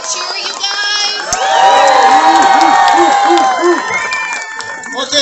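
Outdoor neighborhood Christmas lights crowd erupts in loud cheering, whoops and clapping, children's shouts and high voices rising over a dense swell of noise that stays strong throughout.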